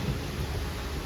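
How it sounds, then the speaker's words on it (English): Heavy rain pours steadily in a big thunderstorm over a garden with grape vines, a broad continuous wash of noise with a low rumble underneath, loud and unbroken. "I can't resist a good thunderstorm"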